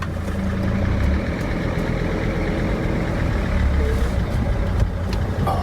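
Mercedes T1N Sprinter van engine revving up under light throttle, a steady low rumble with no pauses that fills the whole stretch, heard from close by inside the van.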